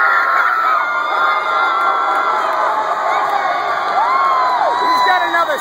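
A packed crowd at a varsity high school basketball game cheers wildly, loud sustained roaring with whoops and shouted voices rising and falling throughout.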